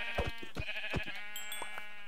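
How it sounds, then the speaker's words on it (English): Minecraft sheep bleat in short bursts during hardcore survival play, several quick wavering calls over steady game background sound with no talking. "so I'm going to go ahead and kill some sheep."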